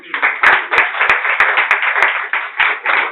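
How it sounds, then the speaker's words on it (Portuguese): Rhythmic clapping from a small group of guests at a birthday celebration, quick close claps repeating in an uneven beat over about three seconds, with loud sharp hand strikes standing out. "Aplaude o Senhor aí."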